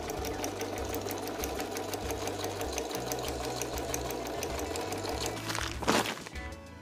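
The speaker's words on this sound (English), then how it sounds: "and we just sew along that edge." A sewing machine stitches along the folded edge of a tarp bag, a steady fast mechanical whirring held close up with a brief louder thunk near the end.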